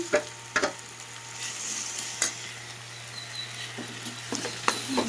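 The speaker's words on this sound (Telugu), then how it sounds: "ఆనియన్ పచ్చిమిర్చి పేస్ట్ కూడా వేసుకొని బాగా ఫ్రై చేసుకున్నామండి" Onion and green chilli paste fries in a pan for fish curry, giving a soft, steady sizzle with a few sharp scraping stirs and clicks of a spoon against the pan throughout.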